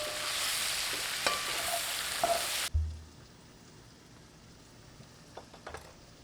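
Diced mushrooms frying in half a stick of melted butter in a cast iron skillet, a loud bright sizzle with a few clicks that cuts off abruptly partway through and leaves faint quiet background with occasional small taps.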